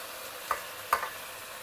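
Chopped methi, palak and coriander leaves stir-frying with onions for hariyali dal, a steady sizzle with two soft scraping stirs close by.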